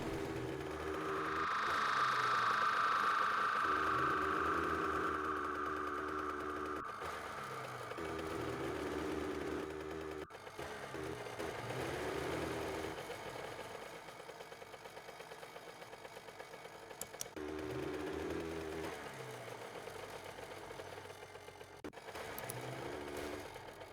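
A mini bike engine from the game 7 Days to Die running steadily for a long stretch, a buzzing small-engine drone that holds and shifts slightly in pitch, with brief pauses and a revving burst near the start.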